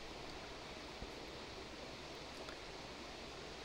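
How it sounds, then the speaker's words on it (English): Ambient waterfall sound with soft, steady trickling water, a constant broadband wash playing quietly in the background throughout, with no talking. "I left the ambient sound on for the waterfall, just kind of a little trickling in the background"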